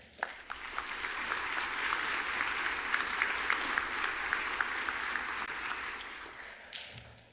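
Steady, full applause from a commencement audience welcoming a speaker, many hands clapping together in a large hall, building quickly and holding even before tapering off.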